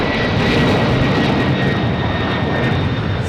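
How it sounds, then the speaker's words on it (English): A big plane goes by at Boston Logan Airport with a loud, continuous jet roar that stays strong and close from start to finish, with no voices. "I can't have the big plane go by and not film it."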